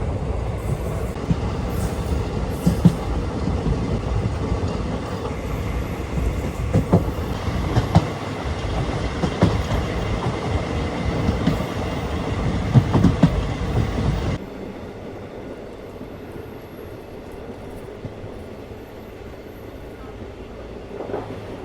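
The Harihar–Hospet passenger train running on rails through the Karnataka countryside, a loud steady rumble with rhythmic wheel clacks, then a sudden drop to a quieter, muffled roll.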